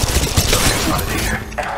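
Rapid gunfire and bursts of shooting from an Apex Legends Mobile firefight, dense and continuous with booming low thumps, mixed with game voice lines calling out contacts.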